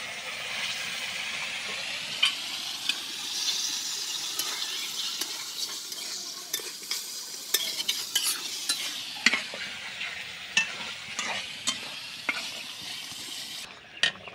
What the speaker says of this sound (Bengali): এখন আমরা খাসির মাংসগুলো এর ভিতরে দিয়ে দিব,